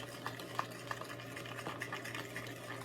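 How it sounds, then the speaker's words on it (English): Fork stirring brown sugar with flour in a bowl for a streusel-style banana bread topping: soft steady scraping with light rhythmic ticks against the bowl, faint and close, over a low constant hum. "And then I just mixed it up with a fork."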